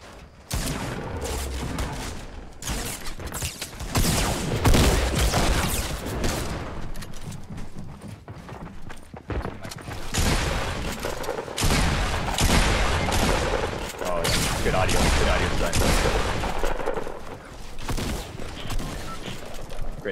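Rapid gunfire and bursts of automatic weapons in a Fortnite Battle Royale squad match, dense and continuous over twenty seconds with booming hits layered in, loud throughout, with occasional player voices underneath.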